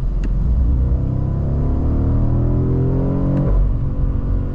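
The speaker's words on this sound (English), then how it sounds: "So we are going to do a flat out acceleration." A 2023 BMW M850i Gran Coupe accelerates flat out, heard from inside as a loud, steady engine roar with its pitch climbing continuously, then a brief dip as it shifts and climbs again, with no talking.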